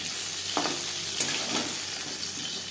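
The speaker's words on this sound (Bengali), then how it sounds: "মাছটা আমি হালকা করে ভেজে যান আপনারা চাইলে এর থেকেও কড়া করে ভেজে নিতে পারেন" Fish frying lightly in a pan for a Bengali fish curry, a steady close sizzle with a few soft stirring scrapes over the hiss.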